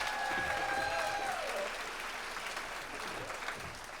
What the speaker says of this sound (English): Give her a round of applause as she comes to the stage.